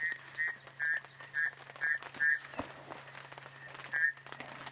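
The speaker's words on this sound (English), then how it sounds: "Predominantly olive toad. Croaking away." Olive toads croak in a steady, evenly spaced series of short calls at moderate distance during a sunrise safari in the bushveld, with a faint continuous low hum underneath and no talking.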